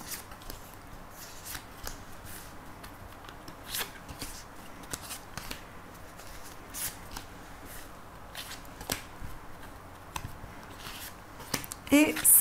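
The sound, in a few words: shuffling cards for an oracle card reading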